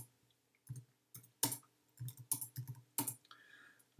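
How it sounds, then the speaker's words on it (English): Typing on a computer keyboard: bursts of quick key clicks in uneven clusters with short pauses between, close and clear, no voices. "I can just go through quickly, type in each of the answers"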